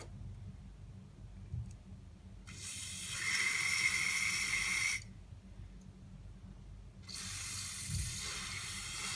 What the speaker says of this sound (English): So you just want to spray it all in there.